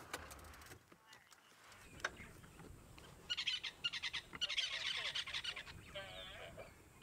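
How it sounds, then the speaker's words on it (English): Loud honking calls from a large bird perched in a tree at a Sabi Sand safari reserve come in bursts of repeated harsh notes over a couple of seconds, with softer calls and faint outdoor ambience before them. "There's a very large bird in that tree over there."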